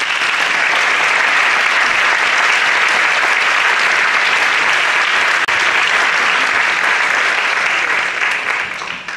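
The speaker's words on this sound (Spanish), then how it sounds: "Recibamos con un fuerte aplauso a Miguel Blanco." Loud, dense applause from a lecture audience welcoming a speaker, a continuous roar of many hands clapping close by that tapers off slightly at the close.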